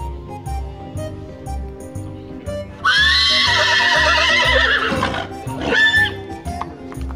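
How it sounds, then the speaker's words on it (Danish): Horses at a horse show neigh loudly in a long, strong whinny, followed by a second shorter neigh, over a steady background of rhythmic clip-clop and crowd ambience. "Når der er skue, er hestene utålmodige."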